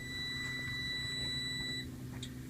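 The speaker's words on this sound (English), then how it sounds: "Now that all the buzzers and lights have kind of relaxed a little bit" A truck's steady electronic warning buzzer drones with a higher beep over a low engine-like hum, then cuts off near the end.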